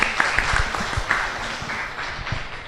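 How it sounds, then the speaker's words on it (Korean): A small studio audience at a live public broadcast of a fortune-telling talk show claps in a brief round of applause, a fairly even patter of hands with a few sharper claps, fading slightly. "박수 한번 주시죠"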